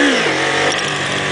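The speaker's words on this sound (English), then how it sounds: "gun it and then flick the clutch out." Motorcycle engine revving hard ahead of a wheelie, heard close and loud as one sustained, slightly falling engine roar lasting about a second and a half.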